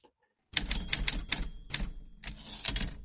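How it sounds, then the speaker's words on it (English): A typewriter sound effect: a close, crisp flurry of mechanical key strikes in quick irregular bursts, with a small ding near the end. "Paul, give us the typewriter"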